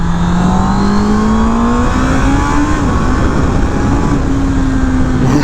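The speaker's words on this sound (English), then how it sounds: "inline 4-cylinder screaming" A Honda inline four-cylinder motorcycle engine with E-Clutch screams at high revs on a race track, a loud, steady, close whine whose pitch climbs slowly and stays sustained throughout, with no talk.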